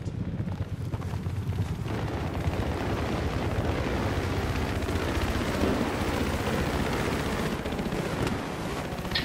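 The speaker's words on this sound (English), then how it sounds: "I hear a chopper. Got a chopper on the left." Helicopter in a military shooter game, a steady loud broadband rotor and engine roar filling the whole stretch with no talk.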